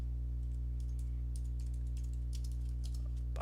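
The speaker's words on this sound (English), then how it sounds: "I'm going to type that in there" Keys tapping on a computer keyboard, a steady run of light clicks under a constant low electrical hum, close and quiet, with no voices.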